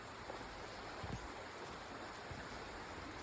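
A river flows steadily along the trail near Dukes Creek Falls by Helen, Georgia, making a soft, continuous rushing wash with no voices over it.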